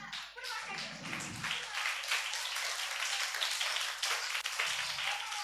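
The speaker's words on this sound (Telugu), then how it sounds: "తక్కువ టైంలో అన్న వాళ్ళకి క్లాప్స్ కొడదామా?" Audience at a Sunday Christian assembly gathering in Kodur, Nandyal, applauding a boys' short skit: a dense, steady wash of many hands clapping throughout, fairly loud and continuous, with a few low thumps mixed in.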